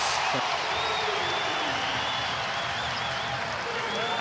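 A home crowd roars and cheers at a Perth Wildcats versus Tasmania JackJumpers NBL basketball game, a loud, sustained wash of noise with whoops rising over it and a commentator talking throughout.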